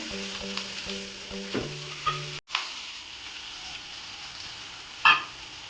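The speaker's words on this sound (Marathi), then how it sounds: "हळद घातल्यानंतर याच्यात मी आपला उभा चिरलेला कांदा घालणार आहे" Sliced onions with turmeric frying in a pan for a snake gourd dish, a soft continuous sizzle with a few stirring clinks and one sharper knock near the end, no talk.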